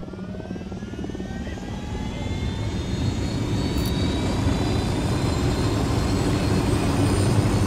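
Aircraft engine roar from a helicopter in a game mission, a steady loud drone that swells slightly and holds through the whole stretch with no talk over it.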